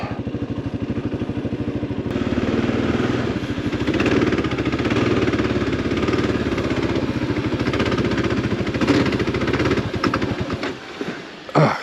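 An adventure motorcycle engine drones loudly and steadily while riding through lava fields on a mountain pass road, with constant rumble and wind noise throughout, dropping off briefly near the end.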